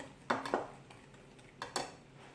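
Brownie batter with corn syrup is mixed in a bowl, producing a few quiet clinks and taps of a utensil against the bowl in two short pairs, with no talking.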